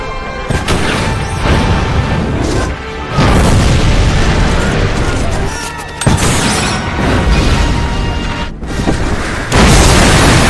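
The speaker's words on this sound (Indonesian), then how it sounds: "Pasukan militer menggunakan rudal anti-tank untuk menembak jatuh tripod tersebut." Anti-tank missiles strike an alien tripod in a film battle, producing loud, continuous booming explosions and crashing rumble, with a few louder surges over about ten seconds.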